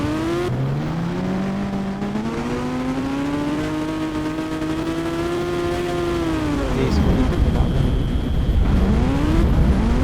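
A scooter engine in an Indian bike driving game, Mega Ramp mode, revs continuously with rising and falling pitch, loud and up close, while a voice talks over it.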